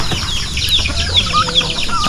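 A turkey calling among free-ranging poultry on a countryside farm, giving repeated short high chirps and clucks over a steady background of other birds and farmyard noise.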